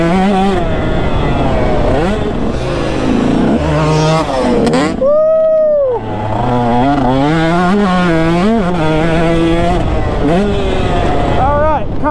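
A two-stroke motorcycle revs hard while being ridden, its buzzing engine rising and falling in pitch through repeated throttle blips with a brief dip near the middle, loud and close.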